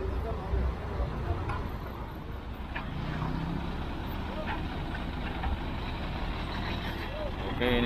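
A Jetbus 2 Tronton coach on a Mercedes OC 2542 chassis pulls into a bus agent at Pasar Rebo, its heavy diesel engine rumbling steadily close by under busy street noise.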